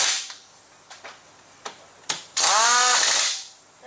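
An impact wrench snugs lug nuts on the wheel of a Kenworth T680 truck in a shop, giving a few short sharp bursts followed by a longer loud rattling hammer that ends abruptly.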